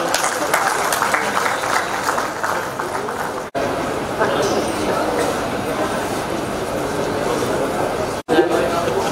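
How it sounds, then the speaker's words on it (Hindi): Sustained applause from an audience at a government school teachers association awards ceremony in Delhi, a dense steady clapping that runs throughout with brief cutouts. "तालियों से अभिनंदन करें"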